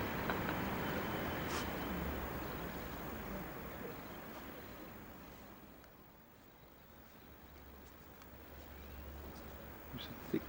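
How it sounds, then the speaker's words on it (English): A faint, distant wash of traffic rolls through thick fog in Spain, cars unseen, a low steady rumble that swells and fades slightly with no clear passing vehicle. "You can hear cars in distance, but you can't see them."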